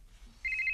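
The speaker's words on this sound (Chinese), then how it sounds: "电话" A telephone starts ringing in a tense Cantonese crime-action film scene, a single bright electronic trill cutting in abruptly and sustained to the end, near and clear.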